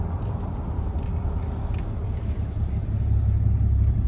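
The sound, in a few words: Ram 2500 6.7L diesel engine revving with gas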